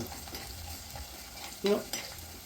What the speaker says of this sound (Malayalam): വെളുത്തുള്ളിയും മുളകും എല്ലാം ഒന്ന് നല്ല വൃത്തിക്കൊരു നല്ല ബ്രൗൺ കളറാന്ന് നമുക്കൊന്ന് വെയിറ്റ് ചെയ്യാം